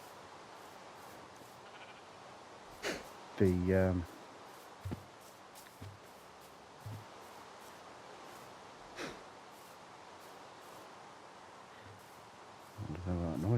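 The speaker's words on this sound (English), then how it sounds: "It's just that little bloody cow." A cow moos in the Minecraft video game: two short, low, tonal lowing calls several seconds apart, with scattered faint clicks in between and a quiet background.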